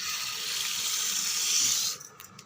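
Tap water runs steadily over a cup of seeraga samba rice in a kitchen sink for about two seconds, then cuts off, leaving a few faint drips and clinks.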